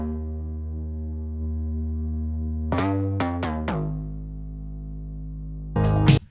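Synth bass layer with more attack and a slightly wacky character: a low sustained tone joined by a few sharp, punchy plucked hits and a bright burst near the end, playing alone.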